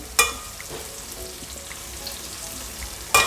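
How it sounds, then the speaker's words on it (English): Soft, steady frying crackle of onions in oil in a pan, low and continuous, with a couple of sharper clatters at the start and end. "while the onions are frying"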